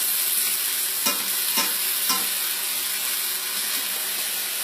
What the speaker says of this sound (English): I'm just going to start off with a few onions here.